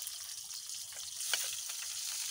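Garlic frying golden brown in a pan for a frog catch-and-cook meal gives a steady, fairly quiet crackling hiss with one brief louder spatter partway through.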